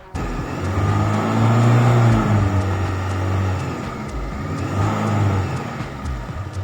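A car engine idling unevenly because of a faulty idle stepper motor, its revs rising and falling in slow surges, steady and close with no voices.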